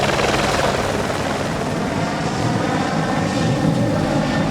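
A helicopter takes off at the 2011 Manx Grand Prix motorcycle race, its loud, steady rotor and engine roar filling the whole stretch with no voices over it.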